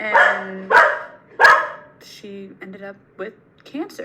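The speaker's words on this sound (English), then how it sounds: "sorry for the dog." A dog barks several times in short, loud bursts close by, followed by softer yips and whimpers, while a person speaks over the barking.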